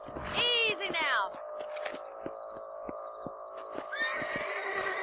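A horse in the video game Red Dead Redemption gives a loud, descending whinny, followed by rhythmic hoof clip-clops and background game sounds, with a voice speaking over it.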